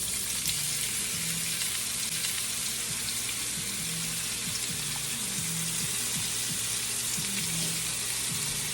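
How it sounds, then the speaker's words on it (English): Food sizzles and crackles steadily while frying in a pan, a continuous bright hiss at close range with a low hum and occasional faint clinks underneath, no talking. "You hear that? The sizzling."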